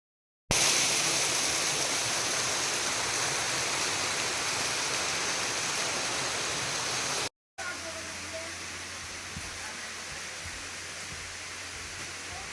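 A waterfall pours beside a Shiva lingam cave temple, giving a loud, unbroken roar of rushing water heard up close. It cuts out for a moment, then returns slightly softer and more distant.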